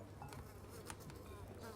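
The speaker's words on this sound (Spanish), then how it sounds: "Un par de moscas zumbaban junto a la ventana." A couple of flies buzz near a window, a faint, continuous droning hum close by with small rises as they move, alone with no voices.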